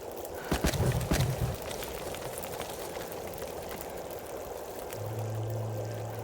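Water pouring steadily from a tap in a video game, a constant rushing stream with a few brief thuds near the start and a low hum joining toward the end.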